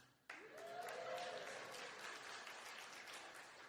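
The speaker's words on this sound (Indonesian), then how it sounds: "Jangan tepuk tangan dulu" Applause from a church audience starts abruptly and carries on as a steady dense wash of clapping, moderately distant, with a voice briefly speaking over the start.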